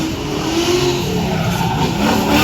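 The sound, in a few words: drift car skidding with tyres smoking at drift show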